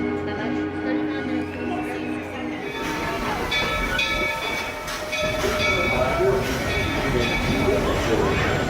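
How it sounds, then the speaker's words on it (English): A train ride at Magic Kingdom rumbles and clatters steadily from close by, with wheel noise and mechanical hum filling the scene while people talk over it. "I'm on a train."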